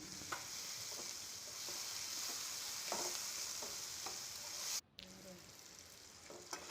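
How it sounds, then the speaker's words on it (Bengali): Spice paste for a spicy chicken curry fries in a pan, a steady close sizzle broken by repeated scraping stirs, with a brief pause near the end before the frying resumes. "এখন আমি মশলাটা ভালো করে কষিয়ে নেব।"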